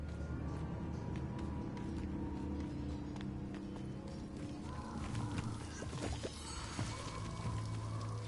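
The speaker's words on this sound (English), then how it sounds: "The waterfall." A waterfall in the video game Hogwarts Legacy rushes as a steady, full roar of falling water, continuous and fairly loud, with faint game sounds layered over it and no talk.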